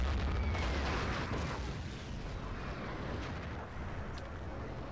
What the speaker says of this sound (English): This is a very strange artillery coming in from Med preemptively.